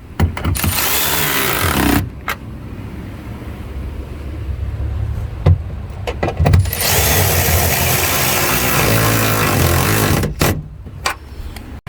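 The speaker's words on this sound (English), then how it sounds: "We're just gonna put these nuts back on. tighten those down." Power tool running in long sustained whirring bursts, broken by brief stops, while nuts are tightened down during a taillamp install on a 2015-2022 Mustang; loud and close, with no speech.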